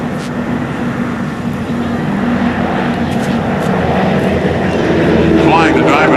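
GEICO Skytypers propeller aircraft flying past at a 2004 NAS Oceana airshow, a steady droning engine roar that swells louder toward the end, with voices audible underneath.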